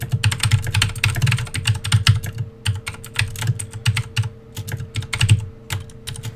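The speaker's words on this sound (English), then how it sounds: "I'll type this next one." A computer keyboard is typed on in dense runs of close, crisp key clicks, broken by brief pauses, over a low steady hum.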